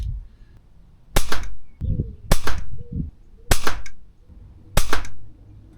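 An air rifle firing FX-branded competition pellets at a paper target, four sharp, loud, close shots evenly spaced about a second apart, each followed by a short ringing tail.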